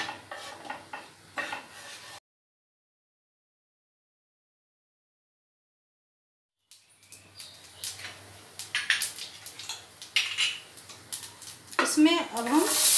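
Cumin seeds sizzle in a hot pan while cooking veg corn keema, giving bursts of crackling hiss after a stretch of silence and growing busier toward the end.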